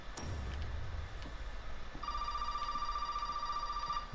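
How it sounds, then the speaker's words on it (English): In the video game Resident Evil 7, a telephone rings in a steady, repeating electronic trill that carries on for about two seconds over a low, rumbling ambient backdrop, with no one speaking. "Where the phone at?"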